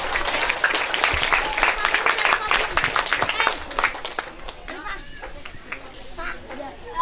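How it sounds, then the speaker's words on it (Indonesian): A burst of crowd clapping and cheering at an Islamic sermon, loud at first and thinning out, with chatter and voices mixed in. "Tepuk tangan untuk Anda semuanya."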